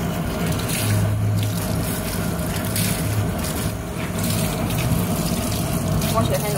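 Tap water running steadily while cloth is washed, a continuous close rushing flow with faint splashing, under occasional quiet talk.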